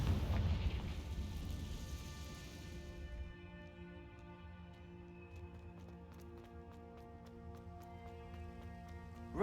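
A Confringo fire-blast spell bursts in Hogwarts Legacy with a deep, loud rumbling boom that fades over about three seconds into a sustained tonal hum, with small clicking sounds scattered through it.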